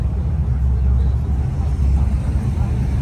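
Engines of cars gathered at a car meet, including Mustangs and Challengers, rumble as a steady loud low drone with no talk.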